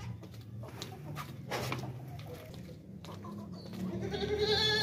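A Beetal milk goat at a livestock sale bleats in a loud, wavering cry that swells toward the end, with other animal calls and someone talking nearby.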